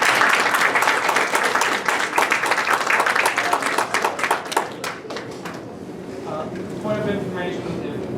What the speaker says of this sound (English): I hope they get a round of applause too